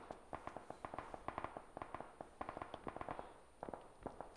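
Gunfire in the video game PUBG, a rapid series of sharp cracking shots in bursts, fairly faint and distant, with no talking.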